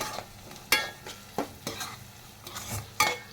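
Poha with turmeric is stirred in a pan, with several close, sharp scraping strokes at an uneven pace over a faint sizzle and no voices.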